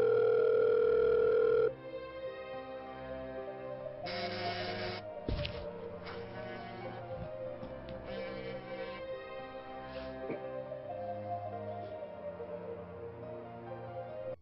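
A telephone left ringing unanswered gives a loud, steady electronic tone for under two seconds, then it gives way to a continuous murky background.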